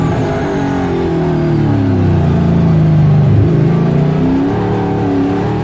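Race car engines on a EuroNASCAR lap at the Italian GP, a loud close continuous roar with shifting revs rising and falling, no voices.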